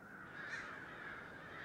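Crows squawk from an oak tree in a continuous, moderately distant chorus of harsh caws over an outdoor background.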